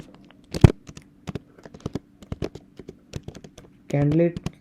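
Typing on a computer keyboard while writing out a definition, a run of quick close keystroke taps at an irregular rhythm, with a short spoken phrase near the end.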